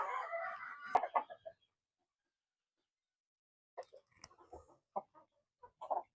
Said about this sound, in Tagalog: meron din tayo nitong English Buff Orpington na breeder